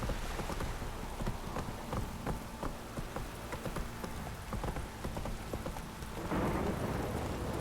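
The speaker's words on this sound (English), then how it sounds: "This downpour's a bastard" Heavy rain pours down steadily across the whole stretch, a dense hiss with scattered sharp drops spattering on a hard surface, swelling louder near the end.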